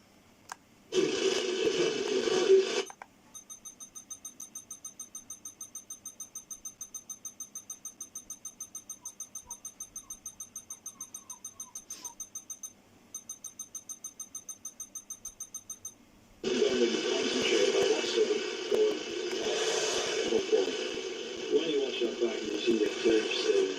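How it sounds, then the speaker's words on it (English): An old Walkman's AM band is picked up by interference from a nearby computer, giving a steady rapid ticking buzz between loud bursts of broadband hiss and static at the start and the end. "There's a lot of noise interference on AM."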